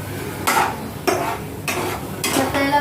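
Onion and chilli being stirred and sautéed in a pan until brown, with four distinct scraping strokes of a utensil against the pan over a low sizzle, close and moderately loud.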